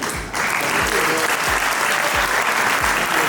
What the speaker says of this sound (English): Big round of applause to the First Lady of Liberia.